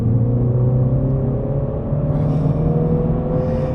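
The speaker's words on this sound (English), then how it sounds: "the engine has plenty of mid-range grunt" A 2020 MINI Cooper S pulling hard in sport mode, its engine note a loud, steady rising drone heard from inside the cabin, climbing smoothly in pitch with a faint whine over the rumble.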